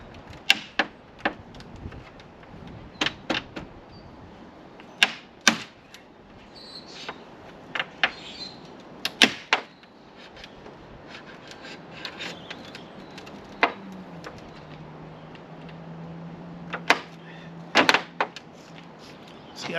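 A screwdriver pries at a plastic trim panel on a 2025 Chevrolet Silverado 1500 Crew Cab, giving sharp, irregular clicks, snaps and scrapes close by, with a brief low hum partway through and no talk.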